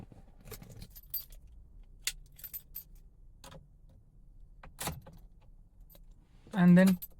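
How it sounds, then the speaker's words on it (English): Keys jangling in a Mahindra XUV 300, a few light metallic clinks and rattles spread across a quiet cabin, ending in a short loud burst as the ignition is turned. "And then turn on the ignition."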